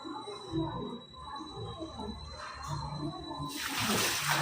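A small child splashes and sloshes in a bucket of soapy water, soft irregular splashes close by that build into a louder burst of splashing at the end, with faint voices in the background.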